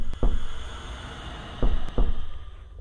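Several dull thuds on a door in the horror game Hell's Resort, a single knock followed after a pause by two more, heavy and close, over a steady low ambient hum.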